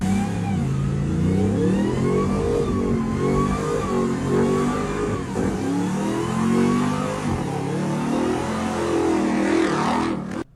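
A 6.2-litre V8 Hemi in a RAM TRX revs hard and loud, its deep exhaust note climbing and falling through repeated rising and dropping sweeps for about ten seconds before stopping abruptly.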